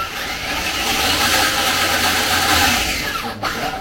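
An Axial SCX6 RC crawler's electric motor runs steadily after a gear change, a loud close whirring drone with a constant whine that holds for several seconds.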